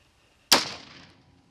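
A single rifle shot is fired over a chronograph outdoors: one sharp, loud crack that decays over about half a second, with quiet before and after.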